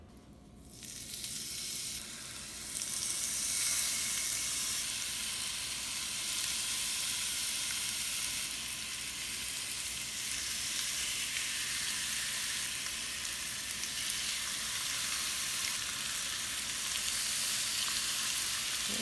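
Quesadillas fry in olive oil in a pan over medium heat, the sizzle swelling in the first seconds and then holding as a steady, close hiss for a long stretch without a break.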